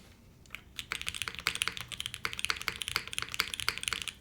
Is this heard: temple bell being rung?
no